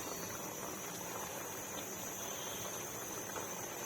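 Chicken soup with green chillies simmers in a pot, giving a steady, low bubbling hiss that holds evenly throughout with no voices.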